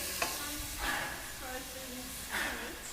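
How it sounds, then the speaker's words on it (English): Greens sizzle and crackle in a hot pan with occasional stirring scrapes, and a voice murmurs briefly underneath. "So you can hear the sizzling."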